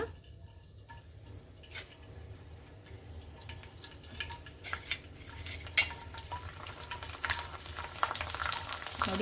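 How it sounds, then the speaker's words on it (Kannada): Rice flour papad frying in hot oil gives a steady, close bubbling sizzle with scattered light crackles and ticks that grow slightly busier toward the end. "ಕಾದಿರೋ ಎಣ್ಣೆಗೆ ನಾವು ಮಾಡಿ ಇಟ್ಕೊಂಡಿರೋ ಹಪ್ಪಳನ ಹಾಕ್ಕೊಳ್ಳೋಣ"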